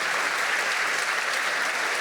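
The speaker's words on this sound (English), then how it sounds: "we should probably ask for another round of applause for everybody." Continuous, dense clapping from an audience at an award show, steady and moderately loud throughout.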